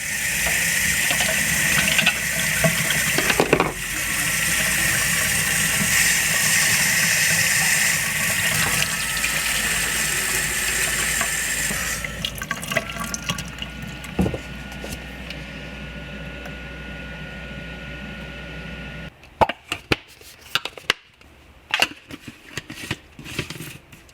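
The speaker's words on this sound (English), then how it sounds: "let's fill up this foam cannon with the AM bubbles," A garden hose runs water into a foam cannon loaded with AM bubbles car wash soap, a steady loud rush of flow that thins out into scattered splashes, knocks and drips near the end.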